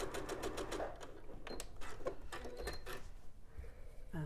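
A domestic sewing machine stitches down a seam on a raw-edge jacket, with bursts of rapid mechanical needle chatter starting and stopping, close and fairly loud, with brief pauses between runs.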